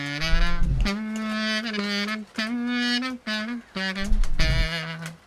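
Kazoo played with repeated 'do' tonguing gives a buzzy, nasal, voice-driven tone in short separated notes and phrases, close and solo.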